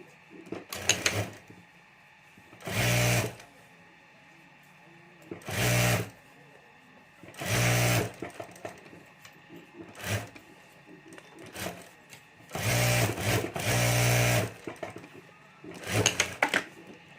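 A sewing machine stitches a fabric strip for a pencil pleat curtain in repeated bursts of rapid whirring of one to two seconds each, separated by quiet pauses and faint handling of the cloth.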